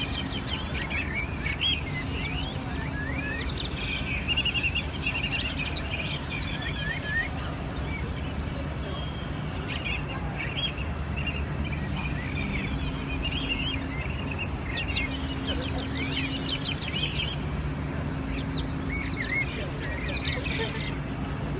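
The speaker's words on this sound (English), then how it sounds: "You can hear birds." Birds chirp and tweet repeatedly in a small green oasis amid the towers of a financial district, bright and fairly close, over a steady low city traffic hum, with a person talking at times.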